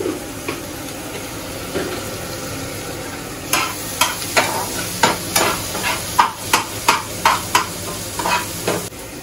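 Vegetables for pav bhaji, with chopped onion and salt, frying in a pan under a steady sizzle, with a run of about a dozen sharp scraping stirs from the middle to the end, close and fairly loud.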